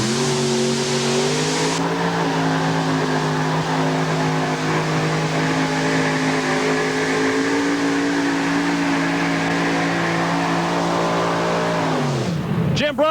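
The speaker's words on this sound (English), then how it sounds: "Tough running modified tractor, Jim Brockman" A modified pulling tractor engine roars loud and sustained through a run at an NTPA tractor pull in Pocono, Pennsylvania, in 1990, its pitch rising then holding steady before cutting off abruptly near the end.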